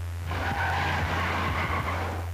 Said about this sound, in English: And there he goes, driving off who knows where.